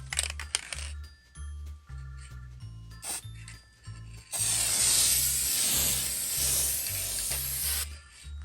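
A spray can hisses a long, steady burst onto an object before hydro dipping, loud and close, preceded by short rubbing and scraping sounds over a low machine hum.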